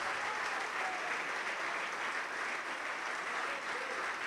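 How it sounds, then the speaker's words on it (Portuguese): A church congregation applauding together, a dense, continuous wash of clapping at a steady level that fills the room from start to finish. "Vamos aplaudir, igreja, vamos aplaudir"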